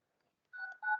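Two short dial-pad key tones from a mobile phone beep in quick succession, clean and close, after a brief silence.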